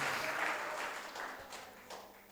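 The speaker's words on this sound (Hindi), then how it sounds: "जोरदार ताली बजाकर स्तुति करें, प्रभु की स्तुति करें" A church congregation at a Holy Adoration prayer service claps loudly in praise, a dense continuous wash of many hands that swells early and then eases slightly while staying steady to the end.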